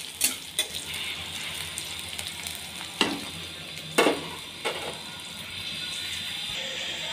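Chilies and cumin sizzle steadily in hot oil, a continuous frying hiss broken by a few sharp clinks and scrapes of a spoon stirring the pan.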